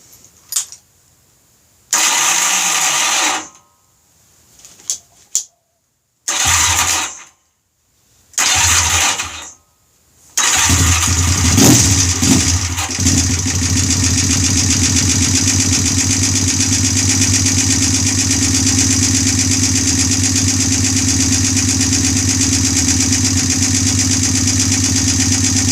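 Honda bobber motorcycle on its first startup, cranking in several short bursts with pauses between before catching, then settling into a loud, steady idle that runs on alone.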